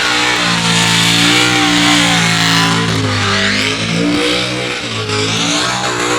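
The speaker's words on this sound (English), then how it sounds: "You can hear the revving, absolutely revving." A loud 900-horsepower E85 speedway race car engine revs hard and continuously, pitch climbing and dropping in rapid surges, close and unbroken with no voices.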